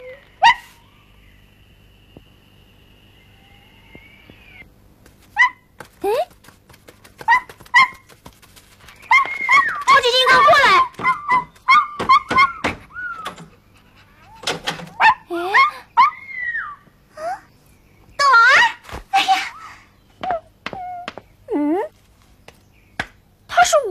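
A small cartoon dog yips, barks and whimpers in a string of short, high bursts, loud and close, with quiet gaps between them and some busier stretches.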